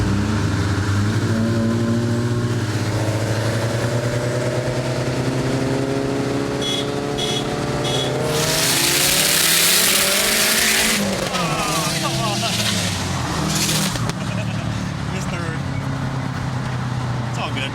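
A Subaru WRX or STI engine races on a road in Mexico, a steady loud drone with pitch sweeps as revs rise and fall around a missed third gear, accompanied by a burst of roaring noise and tire-like squeal.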